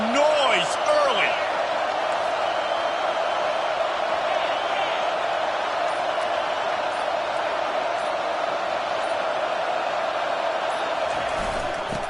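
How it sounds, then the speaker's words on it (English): A stadium crowd in a football video game keeps up a steady loud roar throughout, with a brief whistle-like sweep near the start. "This crowd bringing the energy and noise early."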